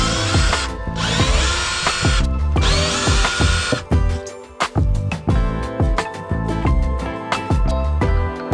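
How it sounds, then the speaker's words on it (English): An electric grinder fitted with a sanding disc strips an old teak cockpit floor on a boat, its motor whining loudly in long passes, with repeated dips and surges as the disc bites and lifts off the wood. "Been using this electric grinder with this sanding disc,"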